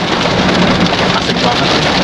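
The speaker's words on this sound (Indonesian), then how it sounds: "karena ini hujan, nanti kita lanjut lagi ya, karena ini agak berisik" Heavy rain drums on a car on a road in Malaysia, a dense, steady hiss and patter that fills the whole clip at close range with no talk over it.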